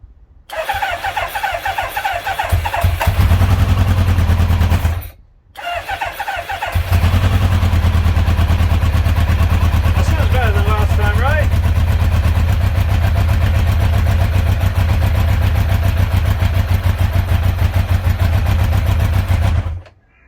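A barn-find Kawasaki GPZ900R motorcycle engine starts and runs on choke, a loud close steady idle with a brief stall-like drop and restart, then a long even rumble until it cuts off.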